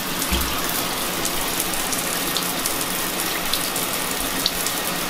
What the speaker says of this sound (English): I was a little bit concerned about my 1-inch drain draining, but it seems to work great